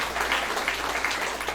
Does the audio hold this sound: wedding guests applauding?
yes